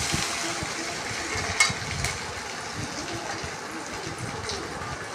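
Eggplant frying in hot oil, probably in mustard oil, with salt and turmeric, gives a steady close sizzle and crackle. A short clatter cuts in once near the start, and a voice is heard faintly.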